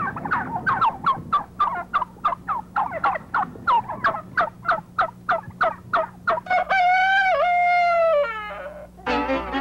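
Turkeys at a local farm that also keeps ducks and geese, gobbling in a rapid string of loud, rattling calls, followed by a longer drawn-out bird call and a brief burst at the end, with no talking.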